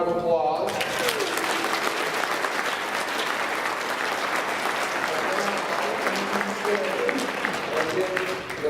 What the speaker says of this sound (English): give yourself a very big, huge round of applause